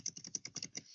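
Quick keystrokes tapped on a PC computer keyboard, about nine close, light clicks in a fast, even burst, fairly quiet and with no voices.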